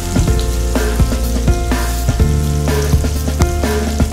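Ginger garlic paste fries in hot oil for a spicy curry, giving a loud, continuous sizzle with crackling bursts and a few stirring scrapes, close up and with no talking.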